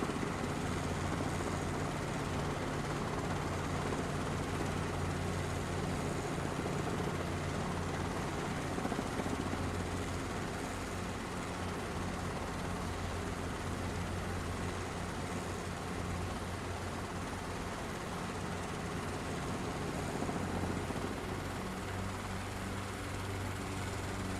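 A helicopter sets down at an airfield, its rotor and turbine drone loud, close and steady throughout without letup.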